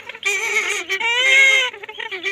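Tame purple swamphens, kept as adult and semi-adult pairs, give loud nasal honking calls up close in two drawn-out bursts.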